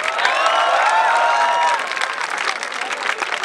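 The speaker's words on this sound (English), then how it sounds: "can we have a round of applause for all the guards?" Lively applause for the university guards at a comedy show at NCU Gurgaon, with a crowd clapping loudly, cheers and whistles rising early, then the clapping continuing a little more thinly.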